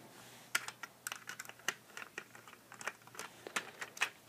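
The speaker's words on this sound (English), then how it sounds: "And now we're going to unscrew the trigger," Quick clicks and small metallic taps from a screwdriver bit working the trigger screw out of a Nerf N-Strike Elite XD Strongarm blaster, a close, irregular run of light ticks with no talking.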